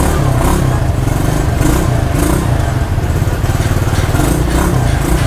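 Two ATVs, Commander and Hunter models, with one engine running steadily and revving in a loud, rough, continuous drone close by, pulsing gently throughout with no talk.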